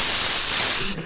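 A voice mimics a deep fryer with a loud, hissing sizzle held for about a second before cutting off abruptly.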